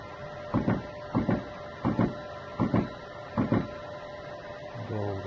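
Yaskawa AC drive motor (SGDM-50ADA servo) on a test run gives five evenly spaced mechanical clunks over a steady mains hum, then a rising tonal whine starts at the end.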